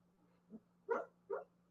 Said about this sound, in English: My dog's behind me, and she is dreaming and barking in her sleep.